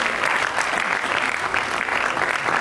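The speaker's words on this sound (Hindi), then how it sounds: "जोरदार करतल ध्वनि, जोरदार तालियों से हम इन बच्चों को प्रोत्साहित करेंगे।" An audience at a college of education event in Firozpur, held for Bhagwan Dev Atma's birthday, claps loudly and steadily to encourage children on stage, a dense, even burst of applause.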